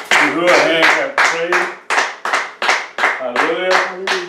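A church congregation claps in praise during a service, about a dozen loud, evenly spaced hand claps in a steady rhythm, with voices sounding beneath them.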